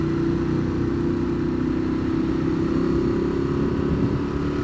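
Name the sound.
Ducati Monster 821 motorcycle engine while riding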